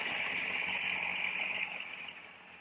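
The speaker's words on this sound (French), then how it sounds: "Donc là on fait tourner notre moteur." A Yamaha FZS motorcycle engine idles steadily at close range, a continuous even hum with a bright whine on top that eases off slightly near the end, no talking over it.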